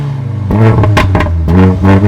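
Turbocharged 2-liter four-cylinder of a 2015 Mercedes-Benz CLA 45 AMG idling, then revved hard twice in quick succession, loud and close with a rasping exhaust note.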